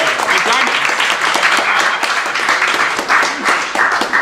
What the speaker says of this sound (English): Can we get a round of applause for vaginas, everybody?